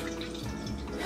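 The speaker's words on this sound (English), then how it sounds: "I wanted to put a little bit of milk in there" Milk pours into a cooking pot in a home kitchen as a short, steady liquid trickle and splash, close by and without talk.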